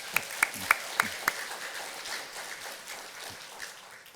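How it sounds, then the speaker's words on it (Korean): A church congregation applauds a newly introduced pastor during a Sunday morning service. A few sharp, separate claps open, then the sound spreads into a soft, rain-like patter of many hands at a moderate distance. "박수 한번 보내겠습니다."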